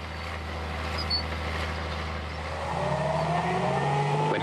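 A British-built Vickers Vigor hydraulic tracked dozer, built on tank running gear, drives along with a steady mid-distance engine drone that rises in pitch and strengthens toward the end, alone without talk.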